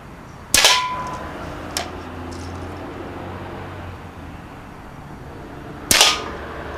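A Daisy Powerline 35 air rifle fires Dust Devil BBs outdoors: two sharp, loud cracks about five seconds apart, each with a quick ringing tail, plus a fainter tick in between over a steady background hiss.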